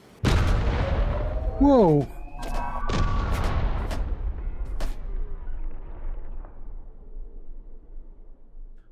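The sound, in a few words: gunfire in VR game Hot Dogs, Horseshoes & Hand Grenades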